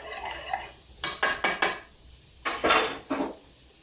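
A mixture with oil being stirred in a bowl produces two bursts of quick scraping strokes, three or four each, separated by brief quiet gaps, close and fairly loud.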